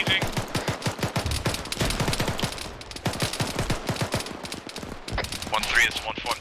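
Rapid bursts of gunfire crack close by and at a distance during military video game training, sustained and dense throughout, with radio-style voices talking over the shooting.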